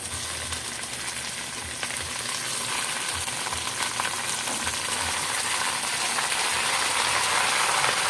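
Chicken sautéing in a pan with garlic and onion for adobo, making a steady, close, crackling sizzle that grows slightly louder over time, with no talking.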